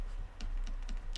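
Short burst of typing on a keyboard as a calculation is keyed in, a few light quick keystrokes close by with no voices.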